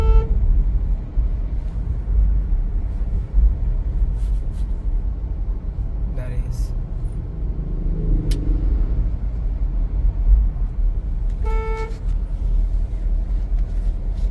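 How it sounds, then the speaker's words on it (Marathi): A car horn honks twice, once briefly at the start and again near the end, over a constant low engine rumble from inside the vehicle. "थोडंसं तुमच्याकडे हॉर्न द्या, त्यांना जोरात द्यायचा हॉर्न."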